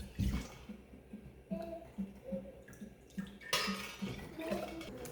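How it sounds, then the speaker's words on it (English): Hot chicken stock being ladled through a stainless steel funnel into canning jars, with splashy pours and clinks of metal and glass in a close, uneven rhythm, without speech. "we're going to fill our jars to a 1/2 inch headspace"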